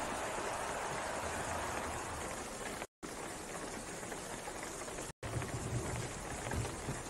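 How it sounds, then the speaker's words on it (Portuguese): Steady rain in the F1 2016 racing game at the Chinese Grand Prix, a dense continuous hiss of falling drops that fills the whole stretch evenly, with no talk over it. "Olha, linda chuva."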